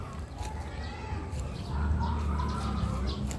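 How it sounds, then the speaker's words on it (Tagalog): Soft clucking of bantam chickens mixed into a steady outdoor background, with low rumbling noise and faint bird calls scattered throughout. "Tapos yun, pareha sila bantam na manok."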